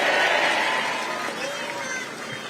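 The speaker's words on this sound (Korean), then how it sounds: "박수 한번 보내주십시오" A crowd at a Korean Democratic Party political event claps loudly at first, then the broad wash of applause gradually thins and fades under talking voices.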